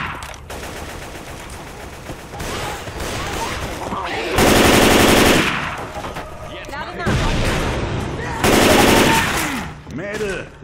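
Rapid automatic gunfire and shotgun blasts from the zombie shooter game Left 4 Dead 2, loud bursts repeating through the clip with two especially heavy volleys, mixed with game effects and occasional voices.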